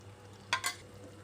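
Raw oil poured over a creamy simmering tomato and peanut-powder masala curry in a pan gives two quick, close bursts of sizzle over a quiet kitchen background.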